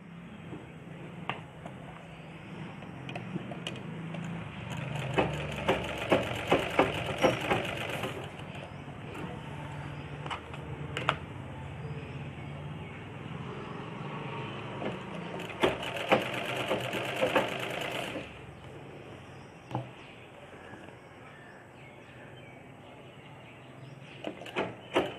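A sewing machine stitching the sleeve of a chudidar top runs in two long, steady whirring bursts with quieter pauses and faint clicks between them.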